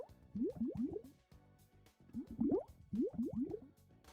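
A bubbling dinosaur call from the Dinosaur Simulator video game: bursts of wet, rising blub-blub pops in two clusters separated by a brief pause, fairly quiet and with no voices over them.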